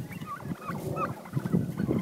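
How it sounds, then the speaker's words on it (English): Turkeys gobble in rapid, bubbling bursts, several birds calling close by over a busy outdoor background. "If you make a gobble noise, they do it usually."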